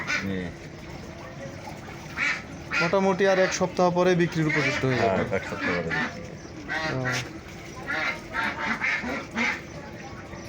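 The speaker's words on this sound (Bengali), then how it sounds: "এই যে আসো, আমরা হাঁস দেখবো।" Meat-breed ducks quack in repeated loud bursts at Kathal Tola bazar in Jamgora, Ashulia, Dhaka, while people talk close by over the birds.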